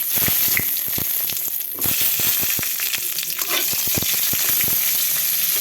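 Cumin, bay leaf and green chili fry in hot oil for a Bengali fish curry, making a loud, close, continuous sizzle. Sharp spatula scrapes and clicks cut through the sizzle, with no one talking.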